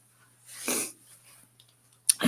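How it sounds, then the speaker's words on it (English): A single person's sneeze, one sharp burst of breath following a brief inhale, close and fairly loud in an otherwise quiet room, with a faint steady hum underneath. "As I sneeze."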